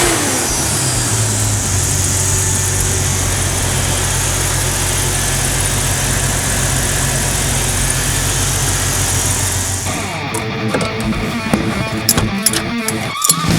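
A Jeep Cherokee engine after a motor swap idles steadily with a loud, continuous rumble and vibration nearby, then its tone shifts near the end with some rattling, and no one speaks.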